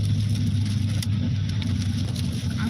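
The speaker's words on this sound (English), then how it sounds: "Low growl of this engine." A steady, low rumbling car engine drones close by throughout, with no speech over it.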